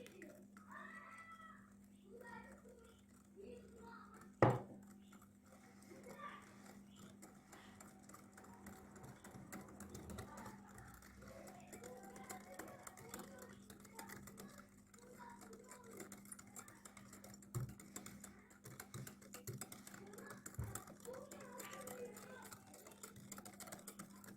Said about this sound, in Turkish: Biz iyice karıştırmamız lazım bunu ki güzel olsun diye sonuç.